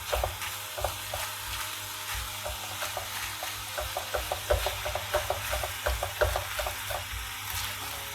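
Chopped meat frying in a pan for crepe filling sizzles steadily while a utensil scrapes and knocks against the pan in irregular stirring strokes, close and moderately loud with no talking.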